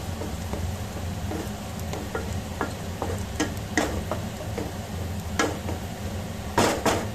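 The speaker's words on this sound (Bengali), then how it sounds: "নারকেলটা ভাজা ভাজা হোক।" Grated coconut frying in a pan for homemade ghugni, a low steady sizzle broken by scattered sharp clicks and scrapes of a spatula stirring against the metal.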